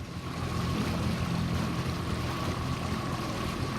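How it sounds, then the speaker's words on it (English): A strong gust blows over a sailing dinghy racing on open water, a continuous, close rush of wind buffeting the microphone with a low wash of water beneath and no voices. "there's a huge puff blowing over me right now"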